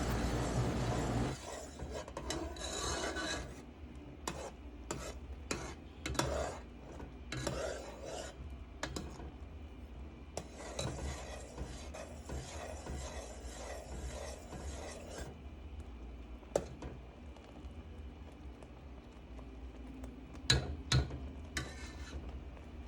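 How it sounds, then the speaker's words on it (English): A spoon scraping and stirring a thickening strawberry and cornstarch mixture in a pot, with repeated close rasping strokes in irregular bursts separated by quieter pauses, faint overall. "I'm going to give it a few stirs here and there and let it boil out for another 5 minutes"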